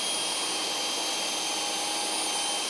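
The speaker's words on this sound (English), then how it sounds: "I've just put the hoover on for the extractor." Shop vacuum running as a dust extractor in a woodworking workshop, a steady broadband whine and rush held at an even level throughout, with no talk.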